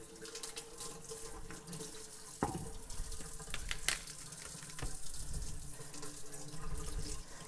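Tap water runs steadily over celery stalks held under a kitchen faucet, a continuous close splashing stream with small shifts as the stalks move through the flow.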